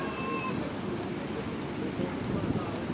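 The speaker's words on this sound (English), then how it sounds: "It's windy here too, so I hope that's not affecting it too much." Wind rushes across the microphone in a constant broadband roar beside a lake with distant mountains, steady and fairly loud, with no clear voices over it.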